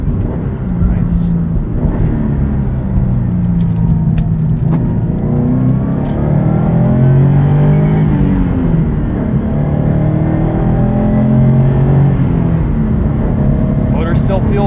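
A lifted 2017 Subaru WRX STI with rally suspension and an EJ engine at 96,000 miles revs while driving. Heard from inside the cabin, its loud, steady drone rises and falls in pitch in several sweeps.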